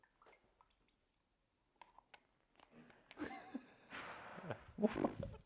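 Carrageen marbling size being stirred in a tray, giving soft wet swishing and squishing sounds that start faint and sparse, then grow fuller and louder toward the end, close by.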